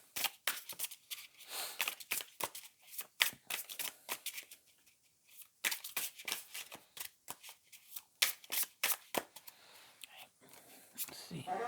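Tarot cards shuffled for a reading, a close series of quick riffling bursts and soft slaps with brief pauses, under a whispering voice.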